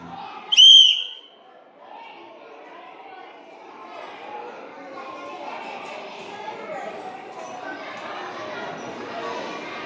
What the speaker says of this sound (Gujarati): સીટી મારીએ એટલે સ્ટાર્ટ